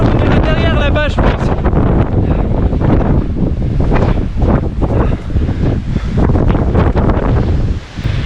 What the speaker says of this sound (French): ce vent c'est quand même impressionnant